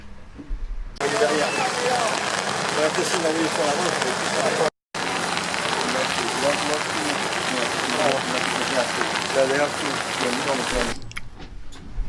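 Dense, steady hiss of heavy rain pouring down continuously during mooring in a Panama Canal lock, briefly cut off partway through, with faint voices murmuring underneath.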